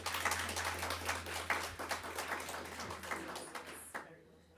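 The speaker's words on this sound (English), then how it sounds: "Again, let's clap for them, please." An audience at a World Press Freedom Day hand-over ceremony claps together in a dense patter of quiet, close hand claps that stops sharply near the end.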